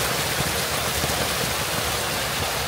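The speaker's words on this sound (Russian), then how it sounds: "умиротворяющая звук воды, течения." Water flowing steadily from an old, nearly 200-year-old structure, a continuous broadband rush that stays even and close throughout, with no voices.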